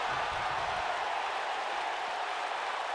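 Steady roar of a video game crowd at a WWE 2K19 wrestling match, a dense continuous wash of cheering and applause holding at an even level throughout with no voices on top.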